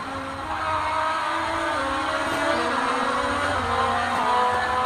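Race cars in a Monoposto racing game at a Vancouver Grand Prix circuit, with a steady loud engine drone, shifting pitch and a rough scraping edge suggesting tire squeal during a collision.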